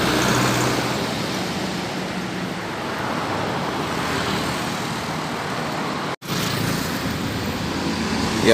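Steady, broad road noise from a large bus rumbling past nearby on a road, continuous throughout with a brief dropout near the end.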